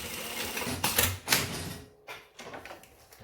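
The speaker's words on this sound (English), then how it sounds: "So we're going to sew 5 millimeters, guys." A sewing machine stitches a 5 mm seam in pant fabric, a close, steady mechanical whir that slows, pauses briefly and restarts.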